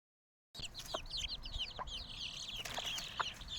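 Hens clucking softly while feeding their chicks in a brooder coop, short murmured clucks scattered over a steady chorus of higher peeping chick calls, all close by with no talking.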